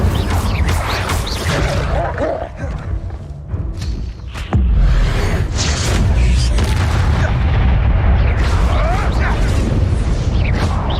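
An Incendio fire spell is cast in Hogwarts Legacy, giving a loud whooshing burst and heavy booming impact amid dense game combat noise, with a sharp thud partway through.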